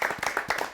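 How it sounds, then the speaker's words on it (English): Brief burst of audience applause for elementary school student contestants at a game show, several bursts of clapping over less than a second. "Go ahead and give them a little round of applause."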